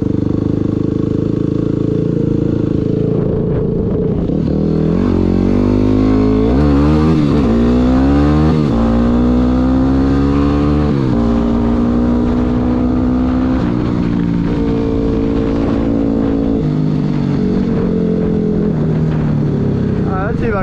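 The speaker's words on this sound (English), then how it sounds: "Let's see if I can do a decent wheelie here." Yamaha WR250R dirt bike ridden around a rural property, the engine loud and close, revving up and down through rising and falling pitches as it accelerates and eases off.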